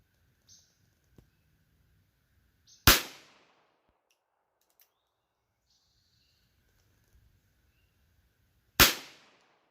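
Two sharp gunshots from an H&R 949 .22lr revolver fired at a target 100 yards away, spaced several seconds apart, each a loud crack with a quick decay, over quiet outdoor background without speech.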